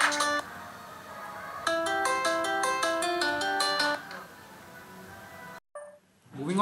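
An incoming-call ringtone on a Xiaomi Mi3 phone plays a bright, repeating melodic chime over faint background sound, fading out before a brief silence.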